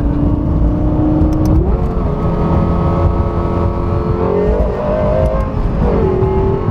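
A Lexus LFA supercar engine revs loudly up close, its pitch climbing and dipping through several throttle blips over a deep, continuous roar.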